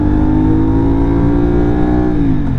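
A CFMOTO 450SR motorcycle pulls out to overtake, its engine note climbing steadily in a loud, close drone that dips near the end as the rider shifts.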